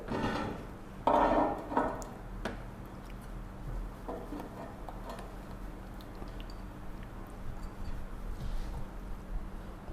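Thickened milk kalakand mixture is stirred in a bowl, with a spoon clinking and scraping against the sides in irregular, close taps and soft scrapes, louder at first and then steadier and quieter.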